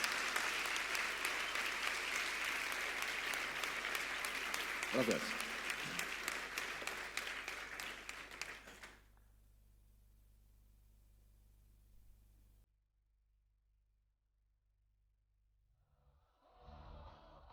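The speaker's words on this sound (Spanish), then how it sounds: "Pues un fuerte aplauso." Audience applause after a talk at the Navaja Negra security conference, loud dense clapping for about nine seconds that breaks off into near silence, with a brief spoken thanks over it.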